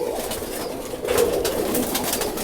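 A Blue Star family roller pigeon coos softly and repeatedly at close range, its low throaty calls running steadily without talk.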